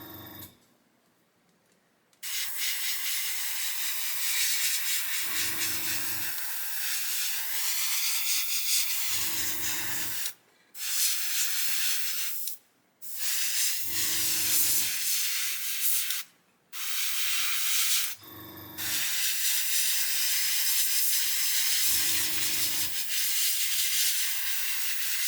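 An airbrush sprays navy blue paint onto a 1/48 Airfix Sea King model kit as a steady, loud, close hiss. Several long bursts are broken by brief pauses, with no talking.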